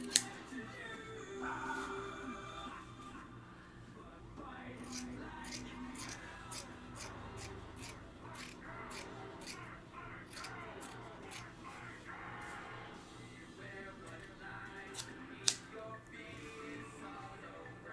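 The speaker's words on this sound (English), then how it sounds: "These scissors are awesome. They're spring-loaded." Spring-loaded scissors snipping fur fabric, a quick run of crisp, close cutting clicks repeating at a fairly even pace over a soft background.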